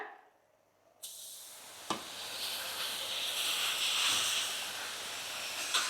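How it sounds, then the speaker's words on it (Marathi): Radish lands on a hot, flat tava and starts roasting. After a brief quiet moment, a loud hiss bursts in and settles into a steady, close sizzle with a few sharp crackles. "तव्यात मुळा टाकूया"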